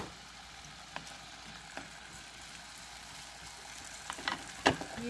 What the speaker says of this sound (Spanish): mientras la papa se está cociendo en la cacerola